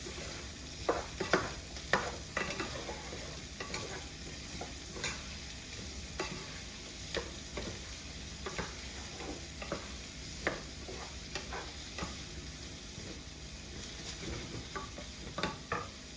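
Cauliflower is stirred through a hot pan of bacon, giving a steady sizzle with repeated scraping strokes of a spoon spread evenly across the whole stretch, close and moderate in level with no talk.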